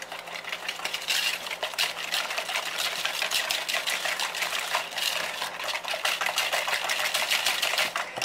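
Eggs and castor sugar whisked together in a jug for bread and butter pudding, a steady run of quick, close clicking and scraping strokes that carries on without a break and with no voices.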